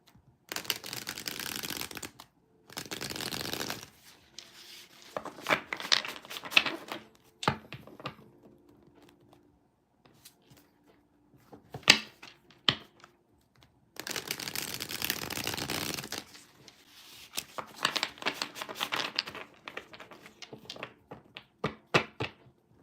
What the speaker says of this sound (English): I am shuffling up your cards one more time